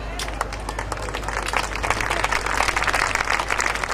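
Audience applause at a Hindi kavi sammelan in Seawoods, welcoming the event's sponsors; steady, dense clapping that builds slightly over a few seconds, with background voices mixed in.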